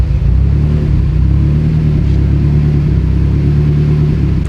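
A car engine idles and revs with a lumpy, choppy rhythm like a cammed motor, steady and close, a continuous loud rumble throughout.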